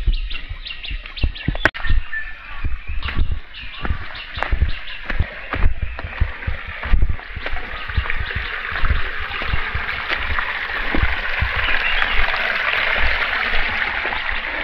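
A small, low-flowing stream runs over rocks on the trail near Suptadhara waterfall in Sitakunda Eco Park, a steady close rush of water with scattered clicks and splashes, faint bird chirps in the background.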